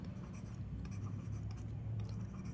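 Pen writing on paper while a maths problem is worked out, a faint scratchy scribble close by over a steady low hum, with quick strokes and short pauses throughout.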